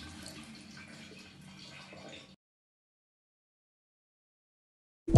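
A running faucet pours in a soft, steady stream for about two seconds, then stops abruptly, leaving silence.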